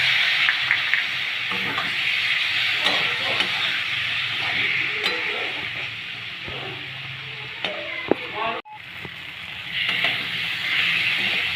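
Spice paste frying in a pan with a splash of ginger water for a small-fish curry, a continuous hiss and sizzle with occasional spoon scrapes and a sharp clank near the end.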